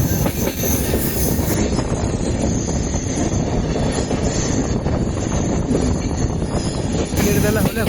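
Uttarbanga Express train rounding a curve, continuous loud rolling rumble with high-pitched wheel squeal running through most of the stretch, heard from inside the carriage.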